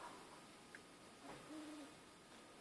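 Birds calling outdoors in the Dino Crisis PlayStation game, a faint owl-like hoot followed by a short soft tonal call over a quiet ambient background.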